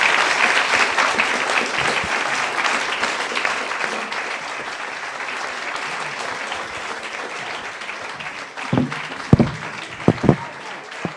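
An audience applauds after a Q&A with Michael Morpurgo, Alison Reid and Simon Reade about Elephant in the Garden, with sustained, dense clapping that thins out toward the end into a few louder scattered claps.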